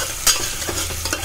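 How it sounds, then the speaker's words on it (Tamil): Tomato and green chili sauté in hot oil for a spicy chicken gravy, giving a close sizzle with a sharp scrape of stirring early on and softer stirring after. "இது நல்லா மசிகிற வரைக்கும் நம்ம வதக்கலாம்"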